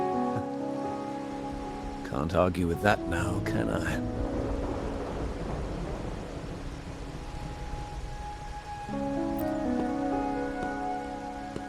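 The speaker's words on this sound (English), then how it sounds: "Or are you simply passing the time until the rain ends?" Steady rain patters during a rainy night in the video game Wuthering Waves, with a low rumble of thunder beneath and a voice speaking over the downpour.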